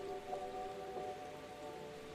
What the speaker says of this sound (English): It wasn't heavy, just a cold, needling drizzle that soaked into your bones